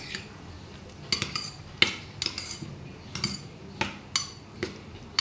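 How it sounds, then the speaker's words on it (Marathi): A spoon stirs chopped carrot, green chili, tomato, onion and coriander into a cup of yogurt, making light, spaced clinks against the bowl with soft mixing between them. "थोडासा गाजर, हिरवी मिरची, टोमॅटो, थोडासा कांदा चिरलेला आणि थोडीशी कोथिंबीर दह्यामध्ये हलवून घ्यायची आहे."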